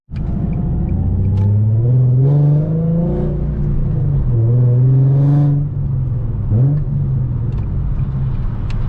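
A Nissan Z Nismo's engine revs and rumbles loudly from inside the car while driving, rising and falling through several throttle sweeps and gear changes with a deep, continuous drone.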